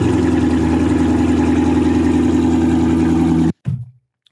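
A subscriber's car engine runs at a steady, loud idle with a deep, even hum, then abruptly cuts to silence, followed by a brief low rumble that quickly fades.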